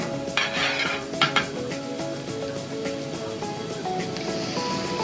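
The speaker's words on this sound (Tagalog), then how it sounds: "So ayan, mainit na yung sizzling plate. Lagyan ni kuya ng margarine." Margarine hitting a hot sizzling plate for sisig at Aling Lucing's, a steady close frying hiss with a few sharp metallic clinks of utensils against the plate.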